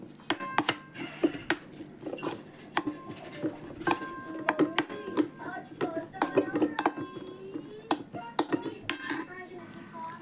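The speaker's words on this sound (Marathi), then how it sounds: "आतां हें सगळें मिक्स करून घेवया आमी" Spoon scraping and clinking against a bowl as boiled potato filling is mixed with chili powder for pani puri, a dense run of irregular close metallic taps and scrapes with no talking.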